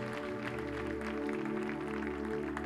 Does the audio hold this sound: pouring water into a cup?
no